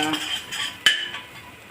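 Sprouted mung beans being stirred in an oiled pan, a spoon scraping and clinking against the metal with one sharp knock, close by, brief and without speech.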